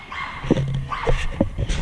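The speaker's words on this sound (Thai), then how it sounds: "หมาครับอย่าเห่าครับหมา" Dog barking outdoors near a truck on a rural frog-fishing trip, several short yips and barks in irregular bursts, fairly close, with faint background noise.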